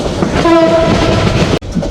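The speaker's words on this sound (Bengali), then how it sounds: "আমাদের চট্টলা এক্সপ্রেস ট্রেন এই যে বিমানবন্দর রেলওয়ে স্টেশনে ঢুকলো" The Chattala Express, running from Chittagong to Dhaka, rolls into Airport railway station with loud close rumbling and a short horn blast, before an abrupt cut to quieter rail noise.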